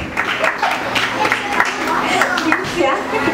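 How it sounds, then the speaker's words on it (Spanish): An audience gives Carlos a warm, strong round of applause at an evening event, with dense, steady clapping under a voice talking throughout. "Demos de un muy caluroso y fuerte aplauso a Carlos para recibir su"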